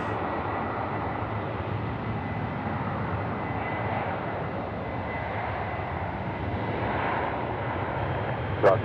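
Velocity Boeing 737-800 jet airliner departing at night from a runway at Sydney Airport, a loud, steady broadband engine roar that holds throughout, close and without talk.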